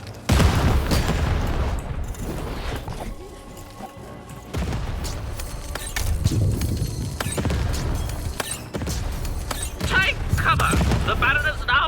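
Loud booming blasts from cannon fire in the video game Lost in Random come in bursts, mixed with mechanical clanks and crashes in a busy, continuous action soundscape.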